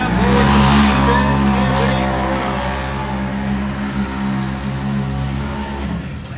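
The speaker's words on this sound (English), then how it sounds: "it might not look like a race car, but it sure sounds like one." A race vehicle engine roars loudly and steadily at a Turlock dirt track show featuring quads, dirt bikes and ATVs, its strong droning pitch holding throughout and easing slightly in volume toward the end.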